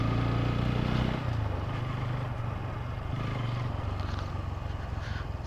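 A motorcycle carrying riders along a road, a steady close engine drone with wind rumble, constant and unbroken.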